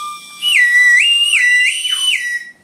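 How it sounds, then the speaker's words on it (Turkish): A loud, shrill whistle candy blown in one long, wavering breath, its pitch swooping up and down twice before cutting off. "gerçekten düdük çalıyormuş"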